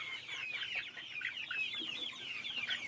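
Rhode Island Red and Black Australorp chickens cluck and chatter continuously as a flock, with overlapping calls close by and steady throughout.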